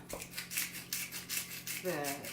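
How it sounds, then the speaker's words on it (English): A Himalayan salt grinder being twisted over food, a series of gritty rhythmic scraping bursts close by, with a voice starting to speak near the end. "Himalayan salt grinder."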